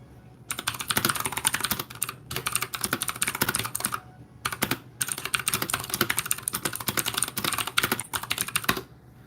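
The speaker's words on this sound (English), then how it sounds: "Let me type something for somebody real quick" Close, brisk typing on a computer keyboard, rapid clattering key presses in bursts separated by short pauses, steady and loud with no voices.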